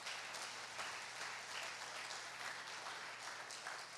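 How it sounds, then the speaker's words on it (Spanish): Congregation at a church service applauding loudly and continuously, a dense even roar of clapping heard alone at some distance. "denle un fuerte aplauso al Señor."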